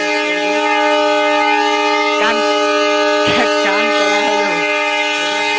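A train arrives at a station, its loud, sustained tonal drone holding steady throughout with occasional voices rising briefly over it.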